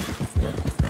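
Horse hooves clip-clopping on the ground in Red Dead Redemption 2, a steady trot of close, muffled thuds repeating every few tenths of a second, heard alone.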